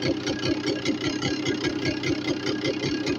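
A Suzuki RS100 motorcycle engine idles steadily during carburetor tuning, a close, continuous mid-pitched engine run with a fast, even pulsing rhythm and no talk over it.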